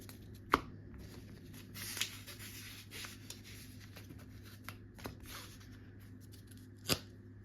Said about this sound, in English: Let me just power shuffle real quickly